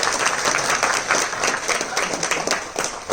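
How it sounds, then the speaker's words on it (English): Audience applause at a dance club showcase, a dense continuous wash of many hands clapping, steady and fairly loud for the whole stretch with no voices standing out. "So let's give her a round of applause."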